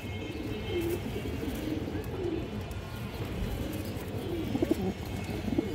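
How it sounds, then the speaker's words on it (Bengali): A large Army-breed pigeon gives soft, rolling coos at moderate distance over a steady background hum, the calls recurring across the few seconds. "বিগ সাইজের কবুতর।"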